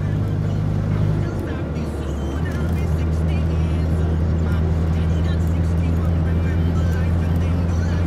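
A boxy Volkswagen Gol quadrado drives along in traffic, its engine a steady low drone with road rumble heard from inside the car.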